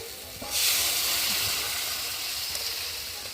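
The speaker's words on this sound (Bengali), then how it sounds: "আর এখন আমি যে প্রেসারে সিদ্ধ করেছিলাম সেই জলটাকে দিয়ে দেব" Boiled chickpea water from a pressure cooker poured into a pan of cooked chicken and chickpeas for chole bhature, a sudden loud hiss and sizzle that settles into a steady, fainter simmer.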